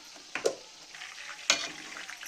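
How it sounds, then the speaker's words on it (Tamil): Mutton kola urundai meatballs fry in hot oil with a steady soft sizzle, broken by two sharper spattering pops near the start and middle. "இந்த பக்கம் எண்ணெயில் மறுபடியும் இது வந்து பொறிஞ்சிட்ருக்கு"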